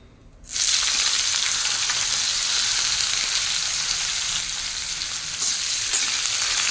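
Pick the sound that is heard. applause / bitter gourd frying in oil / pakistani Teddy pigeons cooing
bitter gourd frying in oil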